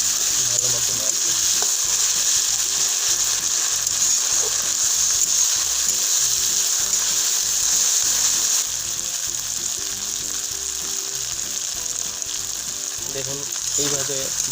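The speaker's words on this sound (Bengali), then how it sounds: "দেখুন এইভাবে ভালো করে ভাজতে হবে।" Ginger garlic paste sizzles in hot oil, a loud, continuous hiss with rhythmic spatula scrapes and stirring knocks throughout, easing slightly partway through, no voices heard.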